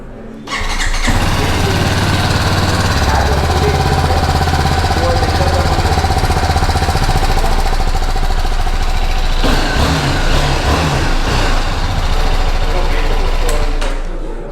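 A BMW G310 GS motorcycle engine cranks and fires up, then settles into a loud, steady, close idle with a rough throbbing rumble.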